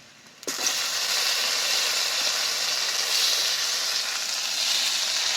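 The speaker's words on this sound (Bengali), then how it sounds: "পেঁয়াজ আমার সব ভাজা হয়ে গেছে, এবার আমি কেটে রাখা টমেটো দিয়ে দেবো।" Chopped tomatoes drop into a pan of frying onions and set off a sudden, loud sizzle that keeps up as a steady close hiss.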